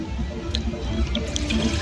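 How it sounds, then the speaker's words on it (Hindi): Water runs steadily into a pot on a gas stove in a village kitchen for cooking chana dal with bathua, a continuous close splashing stream with a few faint drips on top. "मैं पानी डाल दी हूँ"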